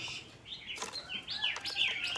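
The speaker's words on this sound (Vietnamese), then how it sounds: "Mi mái thì chim cũng đã xì và âm xì rất là hay nha các bác nhé" A female Chinese hwamei (mi) bird calls close by with a run of bright, rising and falling whistled chirps and trills, steady and moderately loud over a faint background hiss.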